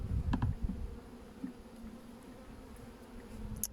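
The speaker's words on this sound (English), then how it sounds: "The bees get in the middle, in between them." Honey bees buzzing around an open Flow Hive during an inspection, a faint continuous hum with a few louder passes near the start and end.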